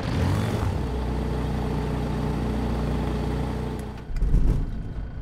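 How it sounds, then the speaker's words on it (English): A Kit Fox light aircraft engine in Microsoft Flight Simulator drones with a steady, humming tone, then shifts in pitch and surges with a louder rough burst near the end, with no voices. "There we go, engines on"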